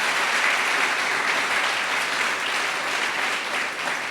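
An audience at a grand opening ceremony for a residential tower applauds, steady dense clapping that holds loud throughout, with no talking over it.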